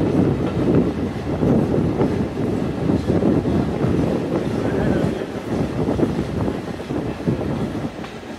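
A commuter train arrives at Mawa railway station with a heavy, continuous rumble and rhythmic clatter of wheels on track, loud and near, heard from on board.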